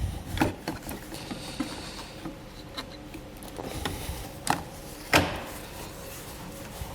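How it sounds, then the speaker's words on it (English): Plastic trim panels and inserts snapped back into the cargo area of a 2018 Kia Sportage: a few sharp clicks and knocks, spaced irregularly, with quieter rustling and handling noises between them at close range. "Now we're just gonna go ahead and button up all our panels here, reattaching all our little trim inserts"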